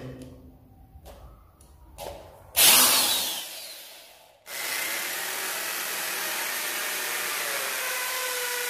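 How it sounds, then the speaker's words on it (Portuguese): A power drill bores a hole into a wall to fix a polystyrene baseboard clip, a few taps and handling knocks first, then a sharp burst and a loud steady whirring drone that runs to the end. "Vou fazer agora o furo para poder fixar a minha presilha aqui do rodapé."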